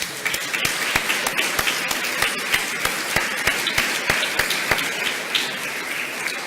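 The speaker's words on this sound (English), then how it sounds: "give finally a round of applause for all of the speakers this afternoon in that session" An audience at a heritage day conference session gives a round of applause for the afternoon's speakers, a dense steady clatter of many hands with a few sharp nearby claps standing out, continuing throughout.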